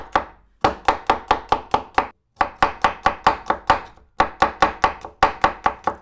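A knife chopping garlic on a cutting board in quick, even bursts of sharp close knocks, about eighteen in all with two brief pauses, loud and alone.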